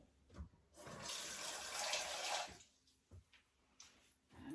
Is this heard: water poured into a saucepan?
yes